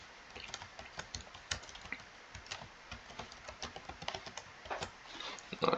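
Quick, irregular clicks of fingers typing a password on a computer keyboard, close and fairly quiet, with a few louder key presses toward the end.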